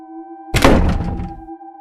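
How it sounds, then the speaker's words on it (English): Door opening in a horror story, a single heavy thunk followed by a brief creaking rasp that fades out over a quiet low drone. "The door opened, and her mother stood in the doorway."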